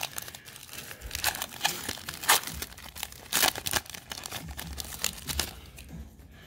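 Foil pack of 2019 XR football trading cards being torn and crinkled open, close-up bursts of crackling and ripping with a few louder tears, no talking.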